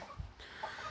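Ameraucana hen clucking in a farm setting, a few short soft clucks close by over low background noise, with a sharper call near the end.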